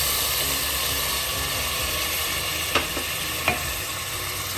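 Ginger and tomatoes fry in a pan with a steady loud sizzle, broken by a few brief scraping stirs of a utensil, no voices.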